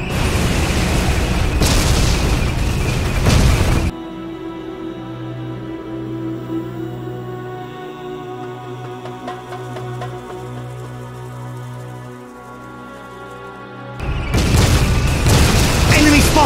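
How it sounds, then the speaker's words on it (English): Gunfire and explosions in the WWII tank game Codename Panzer during an El Alamein battle: loud booming blasts open and close the passage, with a sustained rumbling engine drone and scattered crackling shots between. "They're shooting at us!"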